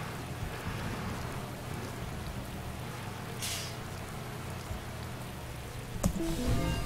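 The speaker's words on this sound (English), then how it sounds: "It's not actually thunder, that's just the sound my bus makes." Deep, rolling rumble from a bus engine in the Bus Driver video game, resembling distant thunder, a steady low roar with a brief hiss midway and a sharper burst near the end.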